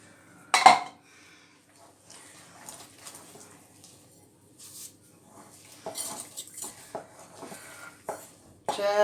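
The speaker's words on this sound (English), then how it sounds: "Just stirring it." A spoon stirs sticky shortcake batter in a bowl, giving scattered clinks and scrapes against the dish, one sharp knock near the start and a cluster of taps later, with quiet gaps between.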